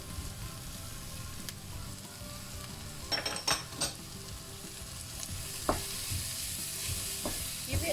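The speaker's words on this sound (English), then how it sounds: "Give it a good stir fry." Carrots and celery stir-fried in a pan with browning garlic, a steady close sizzle with scraping stir strokes and a few sharper clatters partway through, no talking.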